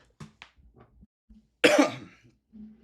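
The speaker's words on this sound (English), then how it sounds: "I literally just have like a lingering cough." A person with a lingering cough from a cold coughs once sharply and close, after a few soft throat noises, with quiet pauses around it.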